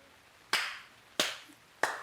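Three separate sharp claps, spaced roughly half a second apart, fairly quiet in an otherwise still indoor room during a Hindi family comedy scene.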